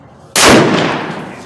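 A single loud rifle shot fired at a target with Hornady SST ammunition, its sharp crack ringing out into a long decaying echo with no talking.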